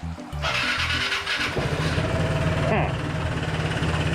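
A Vespa scooter with a newly replaced battery cranks over and its small engine catches, settling into a steady, close, loud idle after a brief starter whir.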